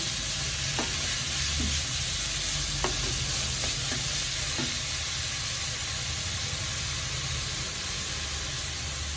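Chopped beetroot for a beetroot and lentil thoran cooks in a pan, giving a steady close hissing sizzle with a few soft taps of a spoon early on.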